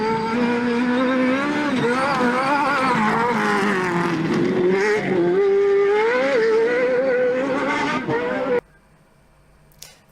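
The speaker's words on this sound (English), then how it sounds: "A great car this is, and just sounds gorgeous." A rally car at a British cross-country and hill rally event passes close by, its engine roaring loudly and continuously with rising and falling revs before cutting off abruptly near the end.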